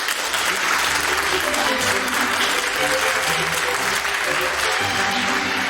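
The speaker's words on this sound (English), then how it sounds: "how lovely it is to hear applause once again" A radio studio audience at a general-knowledge quiz final applauds in a dense, steady wash of clapping that holds evenly loud from start to finish, with a low hum of voices underneath.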